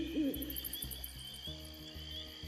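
Owl hooting in the game House of 1000 Doors: Palm of Zoroaster, a single close, clear wavering hoot at the start over a low rhythmic ambient background, with no speech.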